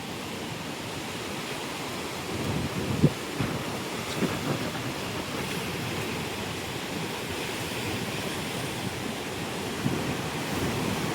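Floodwater of the swollen Baitarani river rushes past in a steady, loud broadband roar that fills the whole stretch, with a few faint knocks breaking through.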